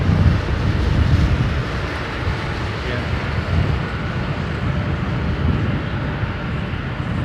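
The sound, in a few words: older airliner jet engines at London Heathrow Airport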